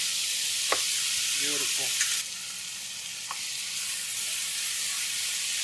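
Meat sizzles and fries steadily in a hot pan beside crisping rice for fried rice, a constant hiss running the whole time, with light stirring scrapes near the start and a brief spoken word.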